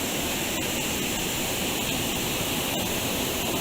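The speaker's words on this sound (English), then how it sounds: "the sluices were above the waterline, so the water comes out quite fast" Water rushes steadily through narrowboat canal lock sluices in a loud, continuous roar, with a few faint clicks and knocks over the constant flow.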